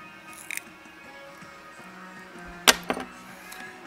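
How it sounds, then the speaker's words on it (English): A single sharp snip of scissors cutting cotton vape wick to length for a rebuildable dual-coil atomizer, a crisp close click with a smaller follow-up click, preceded by a faint tap, in a quiet room. "Now what you do is you cut about this length now,"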